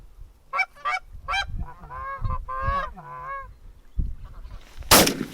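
Geese honk during an early-season goose hunt, a close flurry of repeated nasal honks from birds coming in to land, followed at the end by a sharp loud gunshot.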